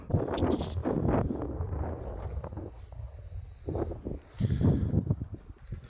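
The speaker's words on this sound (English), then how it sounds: "So it's a little windy out here." Wind gusting into the microphone outdoors beside a Jeep TJ/LJ, rumbling buffets that rise and fall, with some rustling.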